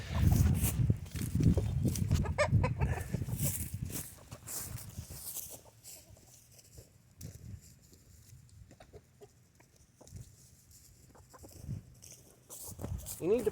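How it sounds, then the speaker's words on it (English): Chickens cluck and squawk on a farm, loud and busy at first then thinning to scattered calls, with people talking nearby and rustling throughout. "I'll see if I can catch this chicken."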